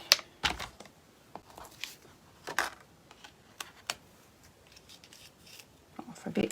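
Scissors snip through paper or cardstock during a Christmas card-making session, giving a few sharp, close cuts spaced irregularly over several seconds, with soft handling noises between them.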